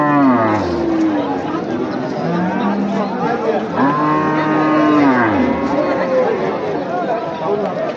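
Cows moo repeatedly at a busy Bangladeshi cattle market, the long drawn-out lowing calls of heavy beef cows rising over steady crowd chatter and voices of traders.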